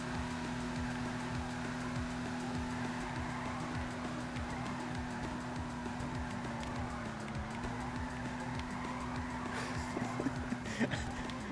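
A Vulcar Nebula Turbo car drifts in a video game, its engine holding a steady droning tone under faint tire noise, moderately quiet and continuous, with no clear talking.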